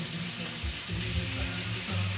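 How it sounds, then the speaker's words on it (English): Marinated chicken sizzles in its own oil and juices in a pan, a steady, close frying hiss with a few low bumps and stirring sounds. "You can hear that start to sizzle up nice."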